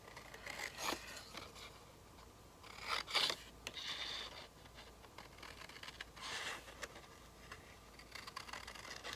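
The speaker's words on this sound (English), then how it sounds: "I'm just going to cut one of these out anyway, just to" Scissors snipping fabric for a stitched book page, heard as a handful of close, quiet crisp cuts and scrapes in irregular bursts against a soft, quiet room.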